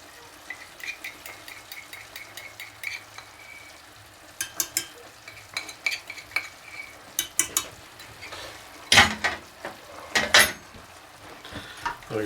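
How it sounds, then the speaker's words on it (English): A spoon stirs sliced apples with cinnamon, ground allspice, salt and corn syrup in a pan, giving soft scrapes and scattered clinks against the pan's sides, with a couple of louder knocks near the end and no talking. "We're going to stir that together."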